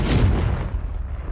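Spell blasts from the Bombardus and Confringo curses in the Hogwarts Legacy video game, a loud booming explosion that bursts at once and rumbles away over about a second.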